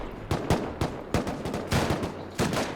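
Rapid bursts of gunfire in the survival video game Rust, about eight sharp close shots spaced unevenly over a few seconds, loud and alone with no talk.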